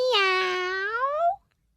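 A single cat gives one clear, drawn-out meow that slides upward in pitch near the end, close and alone, then fades into silence.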